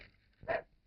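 A dog gives one short, close bark in a brief moment with no talk.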